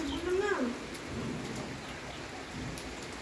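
Steady rain falls outdoors as people bathe and play ball in the downpour, making a continuous hiss with a brief tonal voice-like sound at the start.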